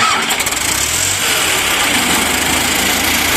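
A T-40 tractor engine fitted with a new battery fires up and settles into a steady, loud mid-pitched idle, running continuously with no voices.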